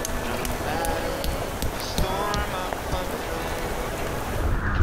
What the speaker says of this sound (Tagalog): Umulan na, pre!